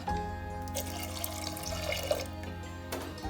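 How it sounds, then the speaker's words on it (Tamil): Water pours steadily into a pot of boiling moong dal sambar, a close, continuous splashing stream lasting a few seconds. "கொஞ்சம் தண்ணி சேர்த்து கொதிக்க வச்சுக்கலாம்"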